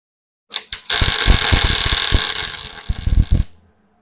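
A welder lays tack welds on a steel bandsaw roller feed table: two short bursts, then a sustained crackling buzz of about two seconds, ending in a few quick sputters, loud and close.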